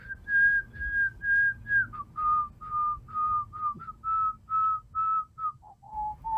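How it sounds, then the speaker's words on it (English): A single clear whistled melody, AI-generated, plays a Mozart symphony as a sequence of distinct, evenly spaced tones, gliding between pitches, alone over faint background hum. "Whistling a Mozart symphony."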